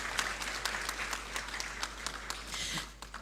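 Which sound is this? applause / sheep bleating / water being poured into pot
applause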